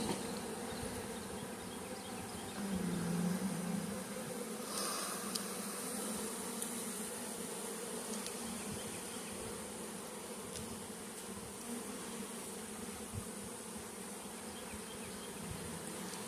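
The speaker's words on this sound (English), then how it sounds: "There's also some bees living out in the tree back there." Bees from a wild colony living in a tree near beehives, buzzing steadily and continuously, a dense swarm drone heard from moderate distance with no talking.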